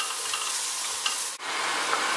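Carrot and pumpkin frying in oil with cinnamon, cumin and cayenne pepper, a steady, close, loud sizzle with a brief stir partway through and no talk.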